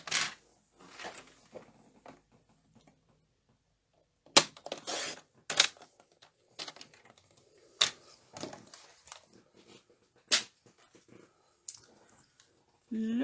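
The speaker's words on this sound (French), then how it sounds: "Petit message que je vais venir couper en massicot pour quand même le faire ressortir droit." Paper being cut with a paper trimmer for a handmade card: a series of sharp, separate clicks and snaps at uneven intervals, close and fairly quiet, with silent gaps between them.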